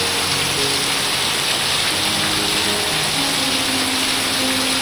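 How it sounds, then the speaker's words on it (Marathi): Heavy monsoon rain pours steadily over a Konkan village, a dense, unbroken hiss that stays loud and close for the whole stretch with no voices. "खूप पाऊस पडतोय गावाला."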